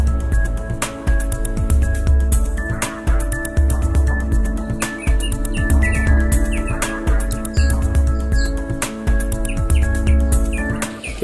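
Birds chirp steadily at a feeding spot in Tobago, with rapid overlapping tweets and calls close by against a low, constant background hum.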